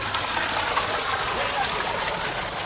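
Water gushes steadily out of a drain outlet at a buffalo stable, a continuous close rushing splash that stays even throughout.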